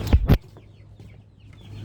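Chickens being fed chick food outdoors give two sharp, loud clucks close by, followed by softer scattered clucks and faint calls in the background.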